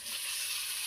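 Minced meat sizzles in a pan of spiced masala cooked down with turmeric, giving a brief, even, close hiss of frying with no pauses or voices.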